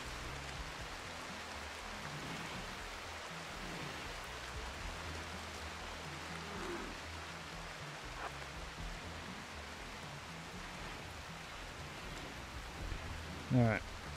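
Steady rain falls across a RimWorld game map, a soft continuous hiss of patter holding an even level throughout, with faint speech-like murmurs underneath and a brief louder blip near the end.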